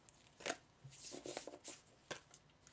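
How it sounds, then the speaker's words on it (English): Tarot cards being shuffled by hand, a few soft, quick riffling and sliding bursts close by in a quiet room. "I'm just going to shuffle a little bit more to see if anything else comes"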